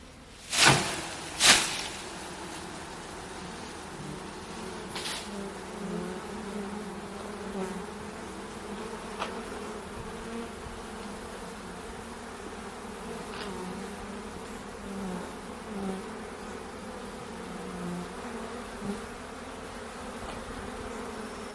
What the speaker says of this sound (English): now I'm just going to shake these bees onto the white towel